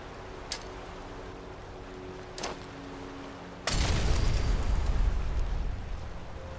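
A frag mine detonates in Fallout 4 on Spectacle Island with a sudden heavy boom, followed by a lingering rumbling burst, after a few faint clicks in a quiet stretch.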